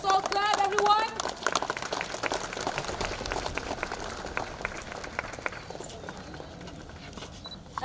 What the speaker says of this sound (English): Let us all clap, everyone